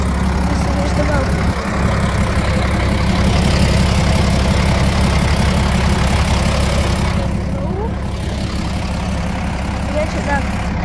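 A retro Chavdar 130 bus on route 200 idles with a loud, constant low diesel rumble that holds steady throughout, with faint voices in the background.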